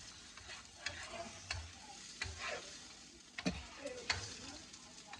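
Eggs starting to scramble in a breakfast pan, a faint soft sizzle punctuated by quiet scraping and stirring clicks, close by and low in level.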